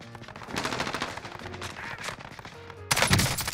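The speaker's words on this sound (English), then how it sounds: "Oh shit, Wayne gonna get shot out the air." Gunfire in the video game Warzone, rapid bursts of automatic shots crackling at moderate volume, with a sharper, louder burst near the end.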